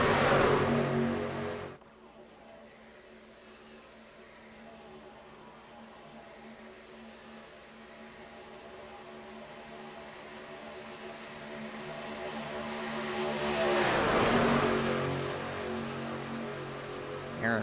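Race trucks in a video game at Daytona roar in a steady, continuous engine drone that swells as a pack passes close near the end.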